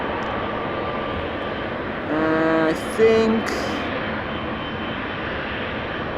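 A Boeing 777 airliner taking off from a runway at Amsterdam Schiphol Airport, heard as a steady, distant jet engine roar throughout, with a person speaking briefly over it.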